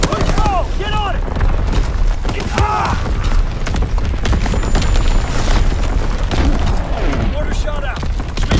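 Primary battery guns firing in a naval-style video game: heavy, booming blasts rolling continuously under loud game noise, radio-style voice callouts and speech.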